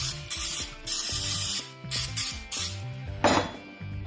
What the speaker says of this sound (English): I'm going to hit it with some misto spray here. Just a pump spray.